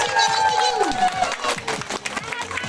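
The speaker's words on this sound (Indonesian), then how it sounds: "berikan tepuk tangan yang meriah untuk siswa-siswi kelas" Grade 7 students receive applause from a school audience, with a crowd clapping and cheering loudly and steadily under music and an emcee's voice.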